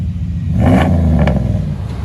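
A 2002 Dodge Ram with a 5.9-liter Magnum V8 and a Magnum Pack exhaust setup revs up close by, its deep rumbling exhaust swelling into a loud rev before settling back to a steady idle.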